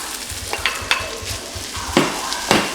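Fried rice sizzles steadily in a hot pan while a utensil scrapes and stirs it in several sharp strokes. The sound is close, with no voices.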